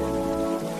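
Steady rain pours down on a surface in a continuous, close hiss with a soft droning undertone beneath it. No voices are heard.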